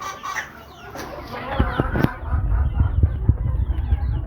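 Native chickens cluck at a small farm alongside layer, Australorp and Fayoumi birds, with scattered clucks over a steady background of rustling and scratching that grows busier partway through.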